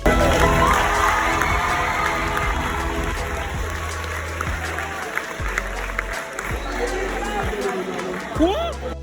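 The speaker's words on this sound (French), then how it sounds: "Tout le monde criait dans la salle." Movie theater audience screaming and cheering at a Creed 3 screening, a loud crowd roar with shouts and applause that gradually settles, with voices audible throughout.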